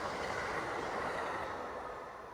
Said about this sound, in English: We're taking the train from Penn Station, New York City.